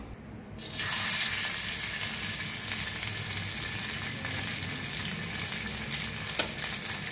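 Food frying in a little oil in a pan on a gas stove, a steady moderate sizzle that starts after a brief quieter moment and continues evenly, with a faint clink near the end.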